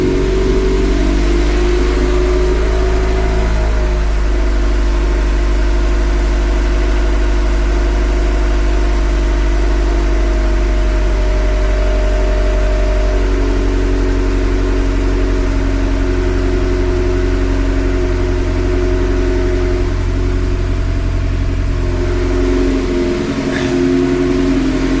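A Honda Civic with a GSR turbo swap idles just after a cold start, a steady, loud low rumble close by with a slight change in pitch partway through and no talking.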